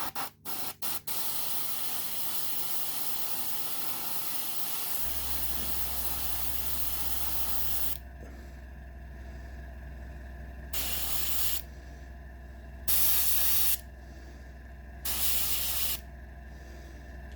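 Airbrush spraying paint onto a 1/35 scale model road wheel, first a long continuous hiss, then after a pause three short separate bursts of spray, close up with no talk.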